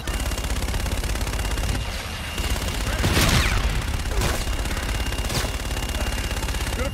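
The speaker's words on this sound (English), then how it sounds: "Roger, inbound for gun run. Guns, guns, guns!" An aircraft gun run in Call of Duty: Infinite Warfare, with loud, continuous rapid gunfire rattling throughout and several sharper blasts cutting through, close and dense.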